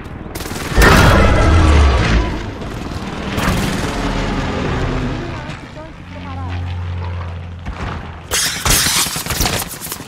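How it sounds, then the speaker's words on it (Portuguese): Gunfire from Call of Duty: Warzone on Fortune's Keep comes in loud bursts of shots and booms, with heavy rumbling between them, a quieter stretch, then more rapid blasts near the end, mixed with players talking. "Estão atirando aqui!"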